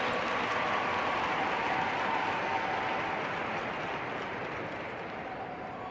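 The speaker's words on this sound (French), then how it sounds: "On le raccompagne malgré tout avec de chaleureux applaudissements" Warm, steady applause from a show jumping arena crowd as a rider leaves, dense clapping sustained throughout and easing off slightly toward the end.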